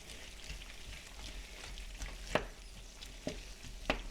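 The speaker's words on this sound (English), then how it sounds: "we're just going to slide that onion right into there. And we're just going to stir it in" Chopped onion being stirred into a hot frying pan for a Spanish tortilla gives a soft, steady sizzle, with a few sharp scraping clicks of the utensil against the pan and no talk.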